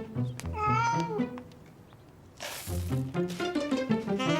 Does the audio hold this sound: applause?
no